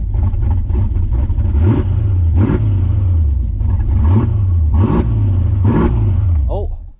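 A 1987 Ford Mustang GT convertible V8, long neglected, fires up and idles with a loud, steady rumble, punctuated by several rhythmic revs that swell and fall before the engine cuts at the end.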